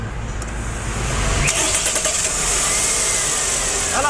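A faulty car engine cranks briefly, catches, and settles into a loud, close rumbling idle with a few revs.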